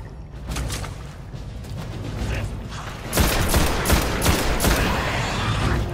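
Gunfire in Destiny during an Exo Hunter campaign fight, with rapid bursts of shots that grow louder and denser partway through, set over steady game ambience.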